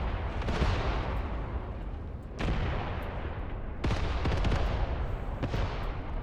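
In the wartime tactics game Graviteam Tactics, an artillery barrage rumbles with deep, sustained booming and dense overlapping gunfire, broken by a few sharp, sudden blasts.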